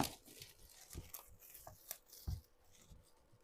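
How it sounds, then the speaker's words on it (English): Plastic wrap tearing and crinkling as it is taken off a box, in short bursts with a couple of sharper rips, close by and fairly quiet. "So let's take the plastic off."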